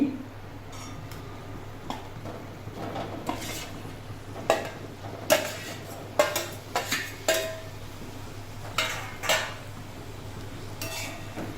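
A spoon stirs boiled potato pieces and peas in a pan for vatana batatyachi bhaji, with scattered scraping knocks and clinks against the metal at an uneven pace, close up and without talk.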